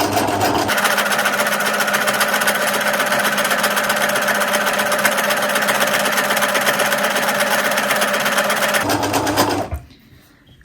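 A sewing machine runs steadily for about nine seconds, stitching free-motion embroidery on fabric gift tags while retracing a line for a chunkier stitch. The loud, close, continuous whir stops abruptly near the end.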